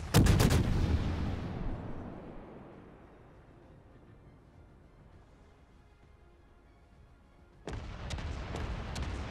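Heavy naval gun salvo from a battleship in World of Warships (Ibuki), a loud booming blast that rumbles and fades over several seconds, followed by a second burst of sharp repeated firing near the end.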